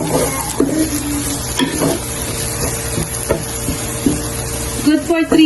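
Tomatoes are stirred through a hot, sizzling pan. A steady fry hiss runs the whole time, broken by repeated scraping stir strokes and a few louder clatters near the end.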